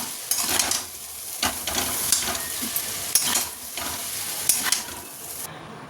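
Chow mein stir-frying in a pan at home, a steady close sizzle with repeated scraping stirs and clinks of a utensil against the pan throughout, no talking.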